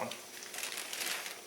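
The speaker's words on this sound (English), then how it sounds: "I opened a bag of these up, and I don't want a torn one." A plastic bag of tortillas is opened and handled, giving a brief, soft crinkling and rustling close by.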